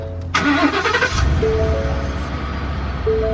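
Ford F150 V8 pickup truck engine cranks and catches at close range, settling into a steady, loud idle rumble after a brief starter whir.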